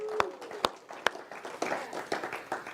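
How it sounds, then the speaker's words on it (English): A church or lecture audience breaks into applause, sharp individual claps over a quick spread of clapping that builds, with a brief voice at the start. "Let's give her another round of applause"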